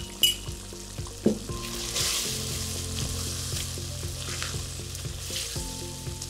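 Ground chilli paste fries in a pan for Thai-style fried rice, making a continuous moderate sizzle with a few early clinks of utensils, steady under soft background music.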